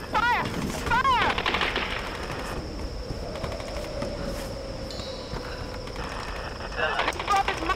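Rapid bursts of automatic gunfire from the Tomb Raider video game, set around a beach and pier, crackle loudly at the start and return near the end over a dense, continuous game soundscape.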